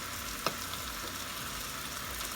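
Pork tenderloin stir-frying in a pan at home, a faint steady sizzle with a soft hiss and one small tap of a utensil, quiet and continuous.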